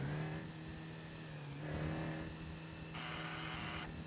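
A Dacia Logan's engine revs and drones at moderate volume in a mountain racing video game, rising briefly a couple of times, with a sharp clunk at the very end.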